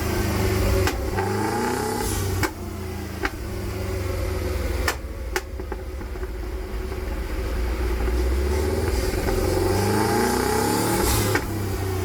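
A Subaru Impreza GC8 fitted with anti-lag runs on a rolling road dyno, its engine holding a loud, steady drone with rising and falling revs and several sharp pops and cracks scattered throughout.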